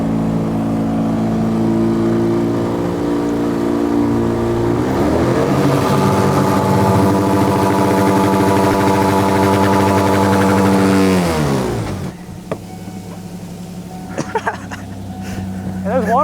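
A fake Yamaha outboard motor from Alibaba starts up and runs with a steady droning hum that rises in pitch before cutting out abruptly, with water and light speech after.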